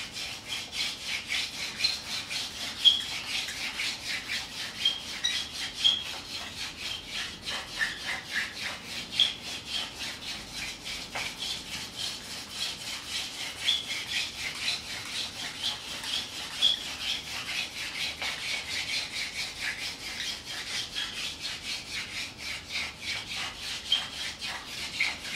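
Hand drill friction fire made by spinning a wooden spindle between the palms on a wooden board, with no bow: a steady, close rubbing rasp with rhythmic scraping strokes that continues throughout.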